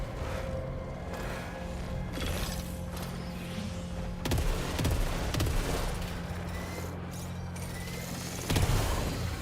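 Hand cannon gunfire in the sci-fi shooter Saros, heavy booming shots and mechanical clanks fired repeatedly amid dense, loud combat noise with no speech.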